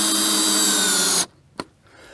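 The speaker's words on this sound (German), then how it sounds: "Pack mir hier eine Schraube rein, klemm das nochmal ordentlich zusammen" A power drill drives a screw into wooden formwork boards for a strip foundation, running loud and steady for over a second before cutting off, followed by one short knock.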